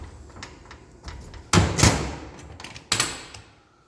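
The door of a display measurement machine is handled, with two loud, close thuds of it shutting and some lighter clicks and rattles between them.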